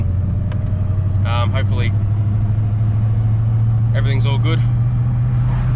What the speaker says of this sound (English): Oh, it feels so good to be driving this car again.